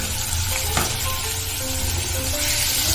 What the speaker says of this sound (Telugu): ఈ టమోటో పచ్చివాసన పోయే వరకు వేపుకోవాలి